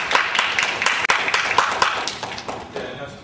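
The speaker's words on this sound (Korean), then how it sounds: "다시 한번 박수 부탁드립니다." An audience at a formal corporate presentation applauds in a hall. The dense, even clapping holds steadily, then gradually thins out toward the end.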